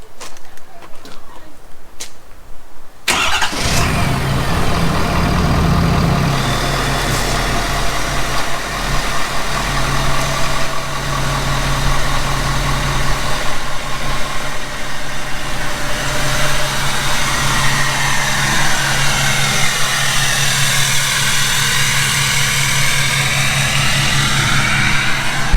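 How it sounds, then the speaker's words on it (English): A 2017 Ford F250 pickup engine running steadily at idle, close and loud throughout after a brief quieter start, with a constant low rumble. "first I like to let the motor run for a couple seconds"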